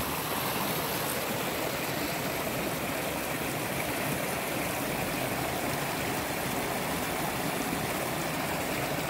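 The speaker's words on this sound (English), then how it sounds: "I just love listening to this water." A stream of water flows steadily outdoors in nature, a constant, fairly loud rushing and burbling wash that fills the whole stretch with no other sounds.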